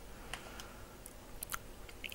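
Close, quiet mouth sounds of bread being bitten and chewed in an ASMR setting, with soft intermittent crunchy bites and no clear speech.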